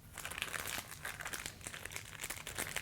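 A plastic mystery bag of Star Wars Angry Birds figures is torn open close up, giving dense crinkling and crackling plastic noise with sharp ripping bursts throughout, no voices.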